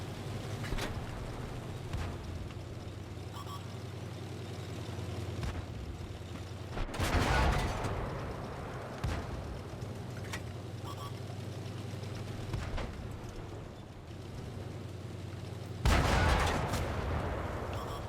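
A tank cannon firing premium rounds in the video game World of Tanks, several heavy booms spaced seconds apart over a low, constant engine rumble.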